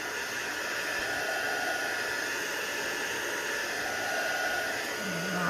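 A steady, loud blowing hiss of a heat tool or dryer runs without pause, drying paint on an art journal page, with no voices over it.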